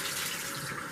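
Tap water runs in a steady, continuous hiss and splash as a Beauty Blender makeup sponge is rinsed under the faucet, close and even with no voices.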